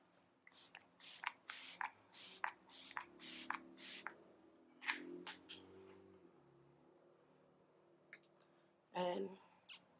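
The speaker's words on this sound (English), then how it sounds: "I'm gonna spray our face." Several quick hissing bursts of face setting spray in a row, close by, followed by rustling and handling noises, with another short spray burst near the end.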